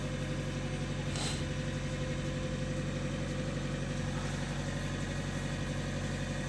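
The 1.9 diesel engine (Z19DTH) of an Opel Zafira B idling steadily up close, with a constant low rumble and rattling throb that never changes pitch; the engine does not respond to the accelerator pedal.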